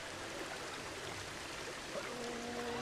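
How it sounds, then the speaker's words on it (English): Water flowing from a fountain in the video game Planet Coaster, a soft, steady stream-like rush at low volume with no voices. "just even the way that you've got the water just coming out of the sides here"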